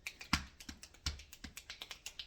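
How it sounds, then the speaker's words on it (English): Crisp finger snaps ring out one after another in a quick, uneven rhythm, layered as a percussion part over a beat and sounding close and fairly quiet. "we're going to add finger snaps."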